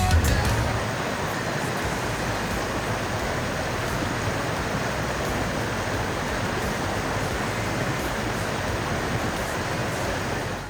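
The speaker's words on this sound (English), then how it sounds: "Bayhorse Creek sure was flowing beautiful there." Bayhorse Creek in the Idaho mountains flows in a steady, broad rushing wash of water, loud and continuous throughout with no talk.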